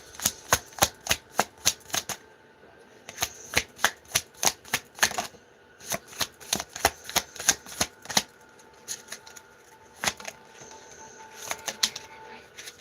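Tarot cards are shuffled by hand in quick riffling bursts of sharp, crisp flicks. Brief quiet pauses fall between the flurries, and the sound is close and clear with no talking.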